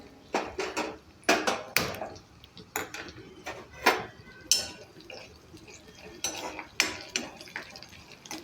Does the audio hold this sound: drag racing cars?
no